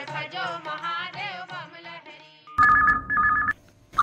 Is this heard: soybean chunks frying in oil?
no